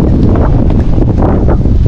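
Steady, heavy wind buffeting the microphone at a windmill site in Ilocos Norte, a loud continuous rumble and roar with no voices.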